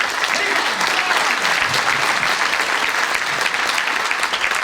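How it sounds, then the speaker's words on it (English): An auditorium audience applauds at a seminar, a dense, continuous wash of many hands clapping at once, loud and sustained for the whole stretch. "I would like you to make an applause for yourself first."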